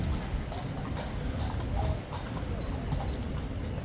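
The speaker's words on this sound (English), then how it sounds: "they're just bringing out the 2 new horses right now" Horses' hooves clip-clop on hard ground at Horse Guards in London as two horses are led out, a steady run of close, distinct knocks over a murmur of crowd noise.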